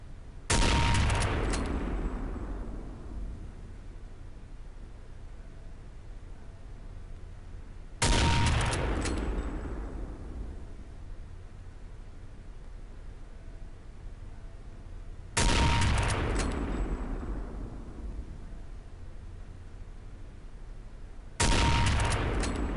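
Four loud, sharp sniper rifle shots ring out in Counter-Strike: Condition Zero target training, each one spaced several seconds apart with a decaying echo tail, no talk between them.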